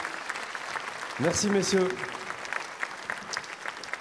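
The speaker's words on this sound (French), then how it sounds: "Applaudissements pour Intelware, cette belle société." Steady applause fills an inaugural company evening event celebrating Intelware, continuous clapping under a voice speaking briefly, moderately loud throughout.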